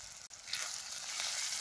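Onion, tomato, turmeric and chutney roast in a pan over a wood-fired stove outdoors, giving a steady close sizzle with a brief dip early on, then continuous frying hiss.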